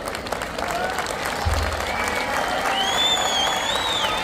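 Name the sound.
audience applause at Independence Day celebration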